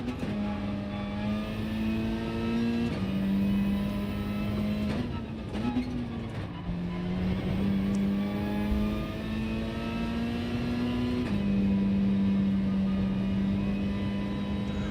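Race car engine in Gran Turismo 7 holds a steady high drone with repeated rev swells and gear-like pitch steps, loud and continuous throughout with no talk.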